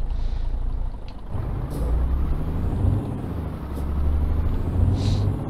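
A truck engine rumbles low and continuously in Euro Truck Simulator 2, with faint hissing air-brake bursts rising above the drone.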